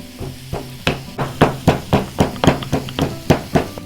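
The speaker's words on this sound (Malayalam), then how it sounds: "ഈ ചെറിയൊരു പീസ് ഇഞ്ചി, പിന്നെ 4 അല്ലി വെളുത്തുള്ളി നമുക്കിത് ചതച്ചിട്ട് കൊടുക്കാം." A small piece of ginger and four garlic cloves being crushed by hand for a Kerala fish pollichathu masala, a steady series of about a dozen sharp, close pounding thuds in an even rhythm.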